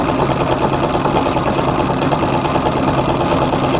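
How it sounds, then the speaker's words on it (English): A sewing machine stitching free-motion quilting at a moderate, steady speed, giving a continuous rapid mechanical whir and chatter, close and loud with no voices. "as long as you've got the right needle in your machine, you can just about quilt anything successfully"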